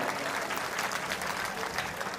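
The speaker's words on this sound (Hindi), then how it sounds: "एक बार अपने लिए जोरदार तालियां बजाइए।" Crowd at a Ramlila festival performance in Sambhal claps steadily, a dense, even patter of applause from many hands filling the short stretch.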